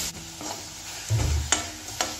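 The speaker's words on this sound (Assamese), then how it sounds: "নাৰিকল আৰু গুৰৰ সৈতে লগ কৰি মই ভাজিব লৈছোঁ" Grated coconut and jaggery frying together over low heat, a soft continuous sizzle broken by a few sharp spatula scrapes and taps against the pan, close and moderately quiet.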